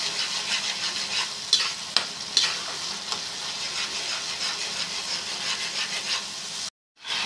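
Potato pieces with turmeric being stirred in a hot pan for a Telugu gongura and egg pachadi, a steady close sizzle with a few sharp scrapes of the spoon, then a brief silence near the end.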